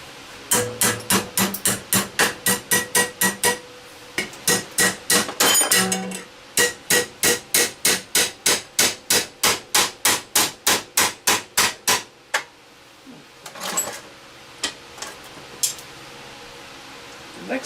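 Steel bracket being hammered into a bend on a metalworking bench, a long run of steady, evenly spaced ringing blows, loud and close, pausing briefly midway and thinning to a few scattered taps at the end.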